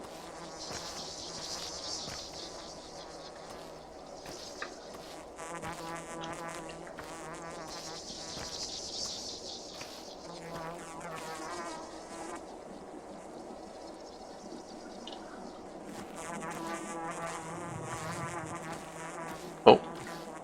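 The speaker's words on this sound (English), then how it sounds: "The buzzing lets you hear the pickable herbs." Insects buzz over pickable herbs in the video game Pathologic 2, a continuous drone rising and falling in waves, with a soft game ambience underneath and a brief sharp click near the end.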